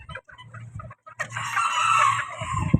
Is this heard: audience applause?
no